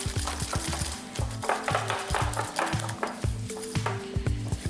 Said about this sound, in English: Just get a little whisk, just to obviously beat in the flour, your sugar, your eggs and your corn flour